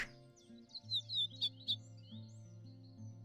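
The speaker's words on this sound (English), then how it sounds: "House Finch." A house finch call plays in a bird-identification video game as a quick run of high, bright chirps and warbles over a soft sustained synth backdrop, with no talking.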